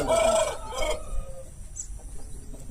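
An Aseel rooster crows once, fairly close, followed by softer clucking and faint farmyard background.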